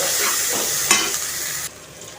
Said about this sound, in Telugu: ఇప్పుడు ఇందులో కొంచెం పసుపు, కొంచెం కరివేపాకు, కొద్దిగా సాల్ట్ వేసి ఇలా కలుపుకుందాం